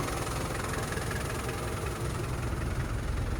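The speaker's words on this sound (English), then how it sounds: "Sounds like a little Land Rover diesel." A 1998 Land Rover Defender 90 with the 300TDI diesel engine and five-speed gearbox idles steadily, a close, even low diesel rumble with a slight knock and no other sounds.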